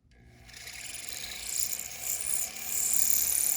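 Rotary ball burr grinds into a lubricated metal ring, a rising, rasping whine that grows louder and stays close and continuous.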